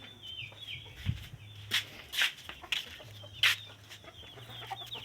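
Chickens clucking outside a house, giving soft, intermittent clucks and short squawks in scattered bursts over a low steady hum.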